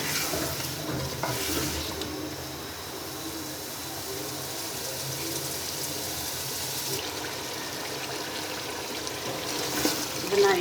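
Tinda and potato pieces fry and are stirred in a pan, giving a continuous sizzle with scraping and shuffling of a spoon, steady and close throughout with no talking.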